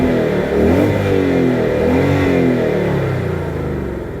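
A 2023 Ford Mustang GT with a manual gearbox in quiet exhaust mode revs with a deep, muffled V8 rumble, loud and close, holding steady before easing off slightly at the end, with no crackle or pops.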